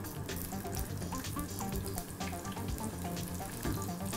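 Onions fry in hot oil for a Kerala-style beef curry, a faint, steady crackling sizzle with scattered pops and soft clinks, no voices.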